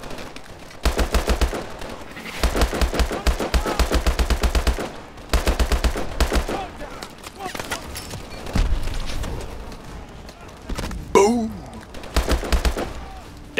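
Rapid automatic gunfire from Call of Duty Advanced Warfare comes in loud sustained bursts with brief gaps, joined near the end by a sharp rising whine and followed by more shooting.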